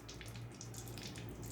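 Water is scooped and poured for cooking dahi bhalle in a kitchen, a steady close splashing trickle lasting about a second and a half with no voices.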